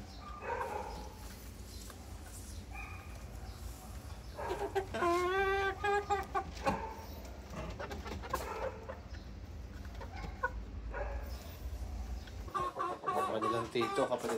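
Chickens cluck and a rooster-type fowl crows nearby on a farm, with intermittent clucks over a steady background hum, while someone talks throughout and a dog barks faintly.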